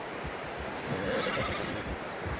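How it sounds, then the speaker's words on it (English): A horse whinnies once in the middle, over steady outdoor ambience with soft hoof clops, in the video game Red Dead Redemption 2. "You should really tether that horse, Arthur."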